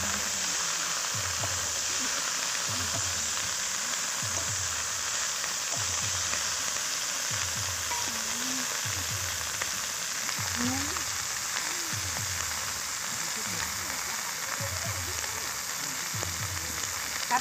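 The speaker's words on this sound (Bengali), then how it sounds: "সব সবজিগুলোকে ভেজে নেব।" Mixed vegetables frying in a pan while cooking at an outdoor picnic: a steady hiss of sizzling oil runs throughout, broken by regular soft scraping thumps from stirring, close and fairly loud.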